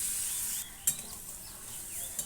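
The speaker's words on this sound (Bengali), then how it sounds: "সেইটা দিয়ে একটুখানি নেড়ে চেড়ে আবারও সেদ্ধ জলটাই দিয়ে দেবো" Green pea ghugni stirred in a pan over sizzling heat, a faint steady hiss broken by a few sharp scrapes and clinks of the spoon against the pan.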